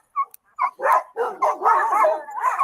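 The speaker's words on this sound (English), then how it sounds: "Dog back here." A family dog at a house barks and whimpers during a police visit in Waco, a few short yips followed by a run of close, loud barks and whines.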